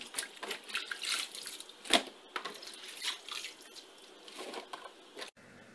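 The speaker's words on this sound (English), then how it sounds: "you want to fill your sink with water and rinse off the cabbage" Water splashing and dripping in a sink as cabbage is rinsed and handled, with wet squishy sounds and occasional louder splashes, close by and without talk.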